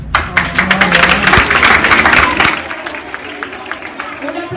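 Audience at a Sant Jordi school event bursts into loud, dense clapping that swells and holds for a few seconds, then thins to scattered claps as a voice talks over the tail.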